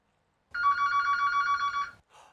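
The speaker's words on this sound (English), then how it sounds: "Oh, we're getting another phone call right now." Telephone in the Bugs' Burgers horror game ringing once, a bright electronic trill lasting over a second against near silence, followed by a brief faint tail.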